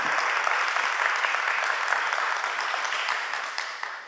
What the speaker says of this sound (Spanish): les pido un fuerte aplauso para nuestros panelistas